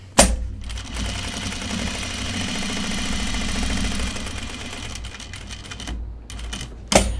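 A sewing machine running a long continuous topstitching line along a pants pocket, a steady rapid mechanical whirring and clatter between short quiet gaps and sharp clicks at the start and end.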